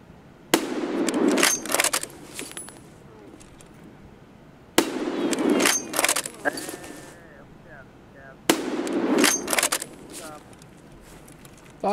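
Video game gunfire in three separate bursts of rapid, sharp shots, loud and close, spaced several seconds apart, with voices talking between them.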